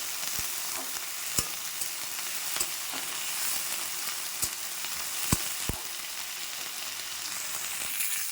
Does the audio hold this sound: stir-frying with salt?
yes